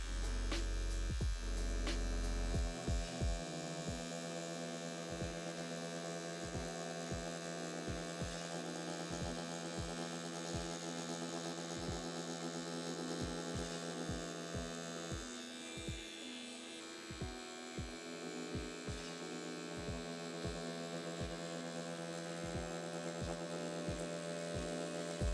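A tattoo machine fitted with a small needle runs steadily while it works fine line work, giving a constant electric hum with a regular pulsing throb that continues throughout.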